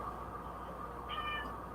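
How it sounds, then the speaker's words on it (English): A cat gives a short, faint meow over a steady hum of a workshop where a 600A power supply is being finished, with no one talking. "Normally don't sit there and meow this much."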